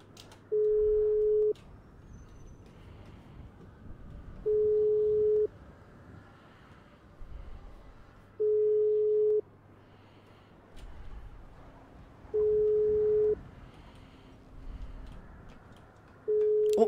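A phone call rings unanswered in a GTA RP video game: a steady electronic tone pulses about every four seconds, each buzz lasting roughly a second, five repeats in all over quiet background shuffling.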